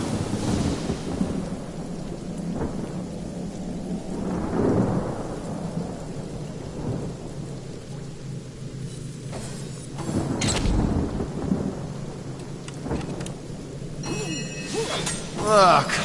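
Spell-summoned thunderstorm in the video game Divinity Original Sin: heavy rain hisses steadily throughout while several loud thunder cracks and rolling rumbles burst in, with a sharp crash near the end.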